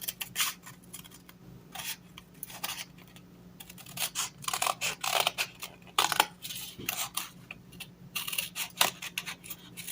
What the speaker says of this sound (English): I'm just going to cut along that line